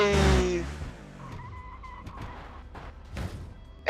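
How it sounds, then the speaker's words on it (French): A car drifting with tires skidding in the Overpass 2 video game, heard as a brief squeal followed by quieter scraping and engine tones, coming after a loud voice at the start. "Oui, je veux faire de la drift!"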